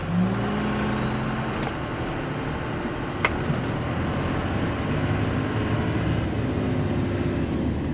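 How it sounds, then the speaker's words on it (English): Cummins diesel pickup truck driven at about 2,000 RPM and 20 mph without shifting: a steady, loud engine drone with road and wind noise runs continuously, with one brief sharp click partway through. "I tried driving it up real high to see if it would shift"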